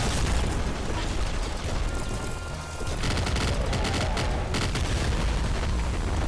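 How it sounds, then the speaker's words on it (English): Rapid, dense gunfire from the top-down shooter Nuclear Throne on PC, a steady loud barrage of bullet shots and small bursts running almost unbroken with no talking. "Just shoot them with bullets."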